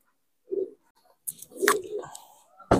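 Racing pigeons give a few soft, low coos in bursts near a loft during a fun race in Calauag, Quezon, mixed with scattered sharp knocks and rustles, with no talking.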